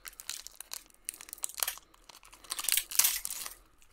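A foil Pokemon card pack wrapper is crinkled and torn open up close, with bursts of sharp crackling and ripping separated by brief pauses, loudest near the end.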